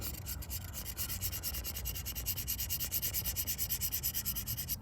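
A knife blade being sharpened on a sharpener, a rapid, even run of scraping strokes repeating several times a second, steady and close throughout.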